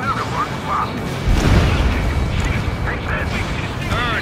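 Explosions during a pipeline destruction mission in Ace Combat 7, a heavy boom rumbling up midway over a constant engine roar, with radio chatter and voices talking across it.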